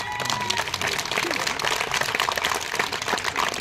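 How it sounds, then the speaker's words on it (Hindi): Audience applause at a function, steady dense clapping from a crowd that fills the whole stretch at an even, lively level. "एक बार जबरदस्त तालियां आप सबके लिए"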